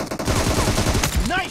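Rapid automatic gunfire rings out in PUBG Mobile, a close, quick burst of rattling shots lasting about a second, with faint game voice effects at the end.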